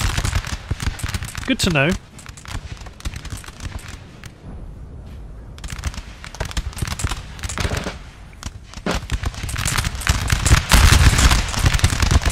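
Infantry musket volleys in Napoleon Total War, crackling ragged rounds of many shots firing in overlapping waves, loud and dense with a quieter stretch between, under a man's occasional speech.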